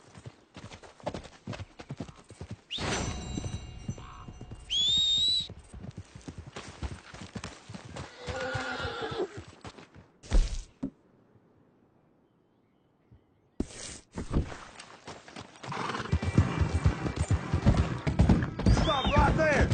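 In the Red Dead Redemption 2 video game, a horse's hooves clop rhythmically while a horse gives a sharp, rising whinny, broken by a near-silent gap before the hoofbeats return with ambient outdoor sounds.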